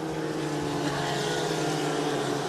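IndyCar race cars on an oval accelerate out of pit lane with a steady, loud, continuous engine whine. It is close and even throughout with no talk over it.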